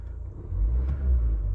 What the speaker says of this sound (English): we just pick up the revs